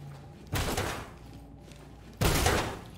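Two heavy, booming blasts of a breaching shotgun in the tactical shooter Ready or Not, spaced about a second and a half apart, each loud with a short rumbling decay against a low background of game ambience.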